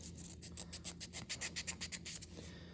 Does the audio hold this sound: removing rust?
yes